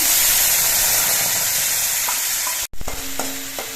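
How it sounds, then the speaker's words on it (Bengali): Loud, dense sizzle of a mixed spice paste added to green chillies and mustard frying in mustard oil, broken by a brief cut, then quieter sizzling with a few clinks of a spoon. "কাঁচা লঙ্কা আর সর্ষেটা ভাজা হয়ে যাওয়ার পর এর মধ্যে আমি গুলে নেওয়া মশলাটা দিচ্ছি"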